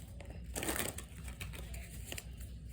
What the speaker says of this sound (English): Let's get a couple more shuffles in here